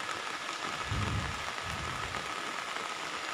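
Heavy rain falling in Chidambaram, India, during December downpours with floodwater pooled around a house, heard as a steady, dense hiss of drops on surfaces without pause, no voices.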